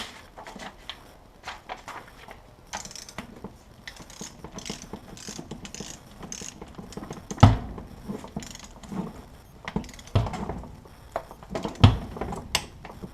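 Torque wrench clicking and ratcheting while DeLorean transmission case bolts are tightened, a run of close mechanical clicks and ratchet sounds with sharper louder snaps near the end, no talking.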